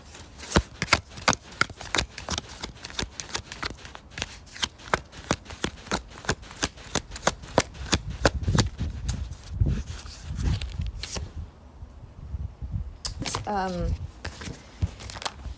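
Rapid, rhythmic riffling of a card deck being shuffled up close, repeated in quick bursts, followed by a pause and then a person speaking.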